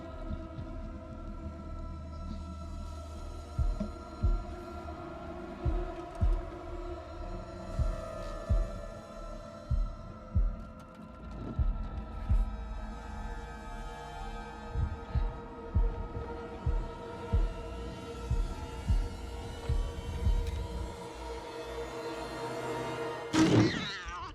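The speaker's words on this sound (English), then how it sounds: "Heartbeat moment." A heartbeat effect in the horror game Little Hope, with a slow, regular, low thumping pulse repeating under a droning ambient hum for about twenty seconds, moderately quiet, with no talking.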